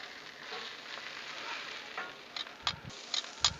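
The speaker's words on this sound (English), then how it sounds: "Just give them a little roll, a little flip." Italian sausages sizzling on a Blackstone griddle, a steady soft frying hiss with a few light scraping clicks and taps as they are rolled over near the end.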